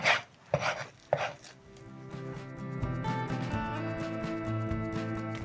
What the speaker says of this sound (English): I'm going to cut my beef in half